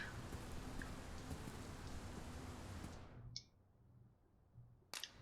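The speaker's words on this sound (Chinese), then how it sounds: "我有种不太好的预感，它又下雨了，是不是？" Rain falls in the video game Dragon's Dogma 2, a faint even hiss that stops partway through, followed by a few soft clicks in near silence.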